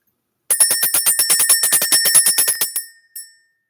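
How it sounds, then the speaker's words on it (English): Small hand bell rung to clear energy, a rapid metallic trill of about twenty quick strikes, loud and close, then a pause and one last short ring. "Let's ring the bell."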